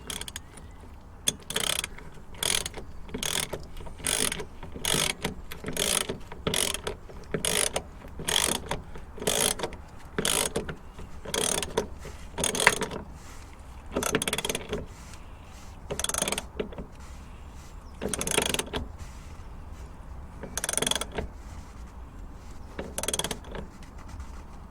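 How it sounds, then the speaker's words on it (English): Ratchet clicking steadily on a bolt during a dog bone mount insert install on a Mk5 Golf R32, with repeated short bursts of pawl clicks separated by brief pauses, close and clear, no talking. "Ratchet a bit."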